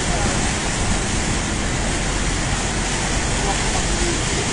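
Floodwater rushes through the streets between Cavite City and Noveleta during a July 2025 typhoon, a loud, steady, unbroken roar with no pauses.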